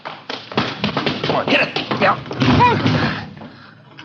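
Men ramming a blocked front door in a radio drama, a run of heavy thuds and whacks close by, mixed under urgent shouting voices.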